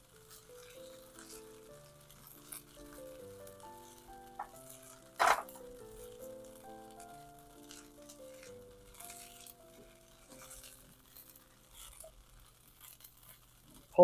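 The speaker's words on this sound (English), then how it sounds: "breadcrumbs going in. Nice sizzle." Breadcrumbs sizzle and get stirred in hot oil in a pan for pasta, a faint steady crackle running throughout, with one brief louder scrape near the middle and soft music playing underneath.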